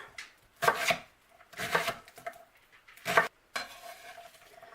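Knife chopping an onion on a cutting board: four distinct bursts of choppy, rapid slicing strokes separated by short pauses, close and clear with no talk over them.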